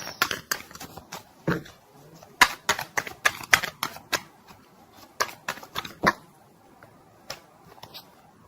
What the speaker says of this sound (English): Card flip